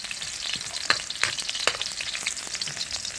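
Ginger fries in a pan while Filipino home cooking is under way, a steady bright sizzle with occasional stirring clicks up close and no voices.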